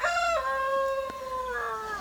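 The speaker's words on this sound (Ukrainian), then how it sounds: "півень говорить разом зі мною." A rooster crows nearby at a rural house in the Carpathians, one long loud call rising and then trailing off.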